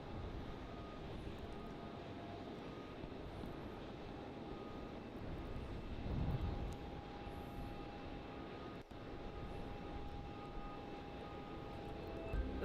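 An airliner taxis toward Terminal 2 at Melbourne Airport, its distant engines giving off a low, steady hum with a faint whine and a brief swell midway.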